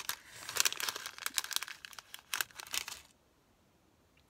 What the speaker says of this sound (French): ces sacs là, ils sont super durs à ouvrir